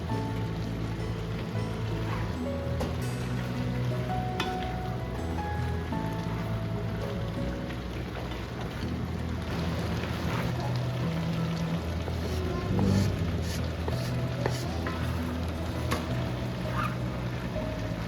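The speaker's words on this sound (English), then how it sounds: "I'm going to add in the beef along with this sauce, let it cook for a minute" Beef and mushrooms with sauce sizzle steadily in a pan, a dense continuous hiss and crackle close by with no talk, for a beef stir fry dinner.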